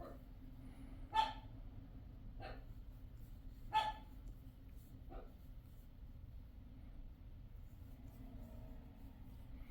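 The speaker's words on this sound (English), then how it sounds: "my dogs are very, very vocal today." Dogs bark a few times in a quiet indoor room, with sharp isolated barks spaced a couple of seconds apart, faint and somewhat distant over low background hum.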